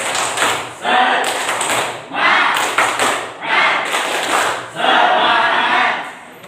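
Students in a classroom perform a rhythmic spirit clapping chant, loud group bursts of clapping and shouting in repeated phrases of about a second each, separated by brief pauses, with voices chanting together throughout.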